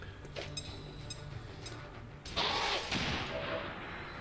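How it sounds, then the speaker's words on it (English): A grenade exploding in the video game XCOM 2, a sudden loud blast midway through, preceded by quieter clicks and game noise. "He's got to throw a grenade."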